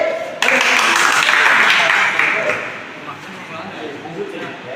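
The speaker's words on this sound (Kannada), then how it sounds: "ಬಾಬಾ ಚಪ್ಪಾಳೆ" Audience applause at a college ITI event welcoming a guest, a loud burst of clapping that starts abruptly, holds for about two seconds, then fades to scattered claps.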